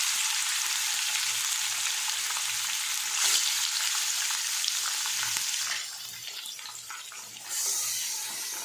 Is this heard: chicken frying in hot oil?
yes